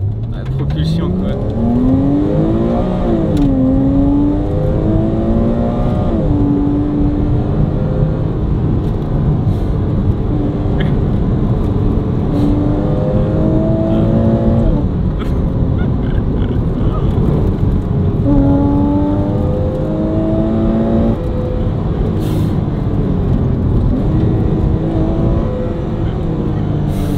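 A track-prepared Porsche Cayman R engine revs hard on a race track, climbing repeatedly through loud rising sweeps and shifts, close and powerful, with people talking over it.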